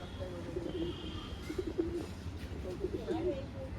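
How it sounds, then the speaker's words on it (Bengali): Soft, low cooing of a pink-banded pigeon repeats in short phrases over a steady background hum, with faint chirps higher up. "গোলাপি পট্টির পায়রা খুব সুন্দর পায়রা"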